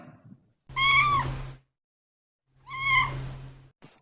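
A cat gives two clear, drawn-out meows, close and fairly loud, separated by about a second of silence; no speech.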